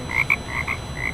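Frogs croaking in a rapid series of short, bright calls, about five or six chirping croaks in quick bursts, close and clear over a low background hum.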